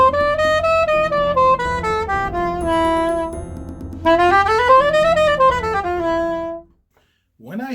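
An E Phrygian scale with a major 7th chromatic passing tone added between the flat 7th and the root, played as a run of clear sustained pitched notes that step downward, then climb and fall again, ending with a short pause.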